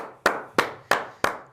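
Applause at a children's leisure-centre event in Hirson, heard here as four sharp, evenly spaced hand claps, fairly close and moderately loud, with no voices.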